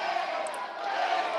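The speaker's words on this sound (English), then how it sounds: "So Wigan fans start to cheer." Wigan supporters at a women's rugby league grand final producing a steady wash of distant crowd cheering and noise, continuous and moderately loud throughout.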